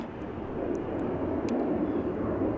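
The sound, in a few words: Embraer 175 jet lining up for departure at Amsterdam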